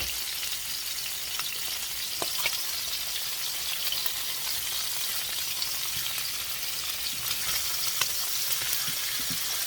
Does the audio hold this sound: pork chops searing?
yes